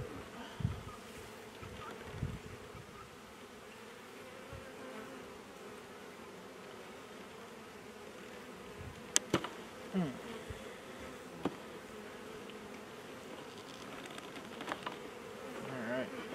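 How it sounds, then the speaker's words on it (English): Honey bees hum inside a hive in a soft, constant drone from close by, with occasional faint knocks and scrapes through the clip. "It's full of bees."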